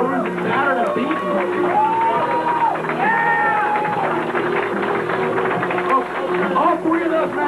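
Crowd at a wrestling death match cheering and yelling loudly and continuously, with shouting voices rising over a dense roar and some clapping mixed in.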